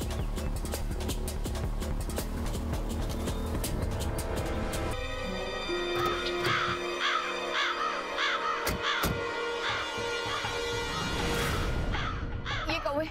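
Several crows caw harshly and repeatedly over a dense, noisy background with other clatter and voices.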